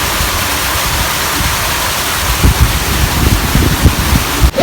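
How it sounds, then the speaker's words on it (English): A waterfall along a hiking trail to a beach in Trinidad rushes steadily as broadband noise, with wind buffeting the microphone and low thumps of handling noise toward the end. "See the waterfall."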